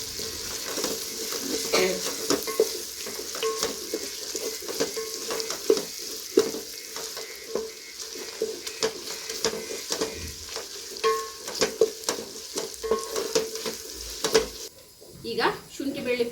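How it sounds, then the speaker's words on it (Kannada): Ginger garlic paste and green chillies frying in a pan for biryani, stirred with repeated scraping strokes over a steady sizzle, with a voice talking intermittently over the cooking. "ಈಗ ಶುಂಠಿ ಬೆಳ್ಳುಳ್ಳಿ ಪೇಸ್ಟ್ ಫ್ರೈ ಆಗಿದೆ."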